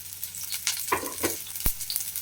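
Onion sizzles in hot oil in a pan for a ridge gourd dish, a steady close frying hiss broken by a few soft stirring scrapes and one sharp clack.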